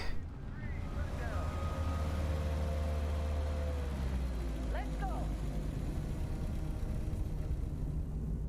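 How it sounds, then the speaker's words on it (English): A vehicle engine in the video game Starfield, a low steady rumbling drone like a tractor or truck idling, heard under someone talking over it. "Sounds more like a tractor maybe stopping, or some kind of lift from a supermarket."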